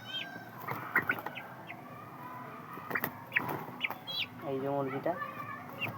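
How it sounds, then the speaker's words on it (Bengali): Several Sonali hens cluck close by in short, uneven bursts, with soft rustling between calls. "আর এইখানে আছে সোনালি মুরগি, এটা মেয়ে মুরগি।"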